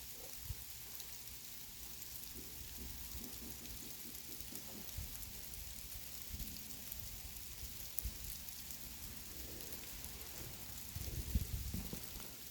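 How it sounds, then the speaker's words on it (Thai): Steady, soft rainfall hisses evenly throughout, with a few low rumbles and patters near the end. "ฝนตกได้ยินเสียงฝนบ่พี่น้อง"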